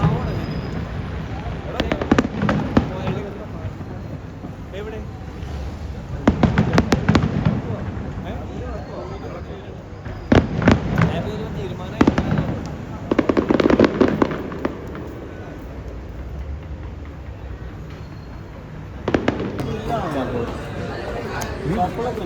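Clusters of sharp firecracker bangs burst in rapid crackling volleys, separated by quieter stretches with background noise.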